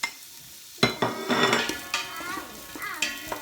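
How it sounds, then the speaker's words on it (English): Onion and garlic frying in a pan for homemade vegetable soup, a steady close sizzle broken by clattering strokes of a utensil stirring against the pan. "So all that just straight into the pan. Just fry it off a little bit until it's soft and a bit brown."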